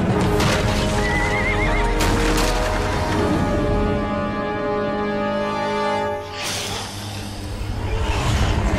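Horse neighing in the Van Helsing video game, a loud whinny over a continuous game soundscape with music-like tones, followed by faint clip-clop hoofbeats and a burst of noise near the end.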